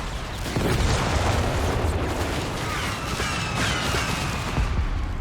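Grenade explosions in a Company of Heroes 3 battle, a dense, loud stretch of rumbling blasts and crackling debris with continuous low booms and no clear gaps.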